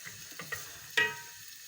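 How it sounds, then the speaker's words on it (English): Chopped red onion hitting a pan with chicken gives a few soft stirring clicks and scrapes, then a brief louder sizzle that quickly fades, quiet and close. "you can hear it starting to sizzle"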